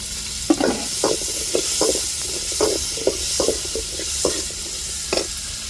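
Tomatoes go into a hot sizzling pan for a South Indian tamarind curry and are stirred, with a steady fry hiss under repeated scraping strokes of the spoon at a regular rhythm, close and moderately loud, no talking.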